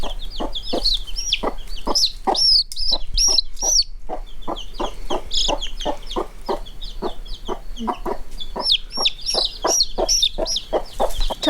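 Chicks peep in quick, high-pitched bursts while chickens cluck steadily nearby, a busy, continuous chatter of poultry close at hand.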